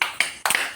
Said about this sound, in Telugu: అక్కకి క్లాప్స్ కొట్టండి